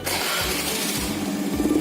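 An engine cranks over in a rhythmic, repeated churn, then catches and keeps running at a steady, loud pitch.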